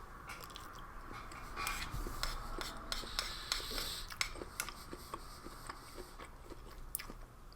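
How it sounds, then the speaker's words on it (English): Close-up chewing of rehydrated spongy beef and peas from an Australian Back Country Cuisine ration pack curry, soft wet bites and squishy crunches in an irregular rhythm, quiet and without talk. "But again, chewing it, you're mostly getting just spongy beef."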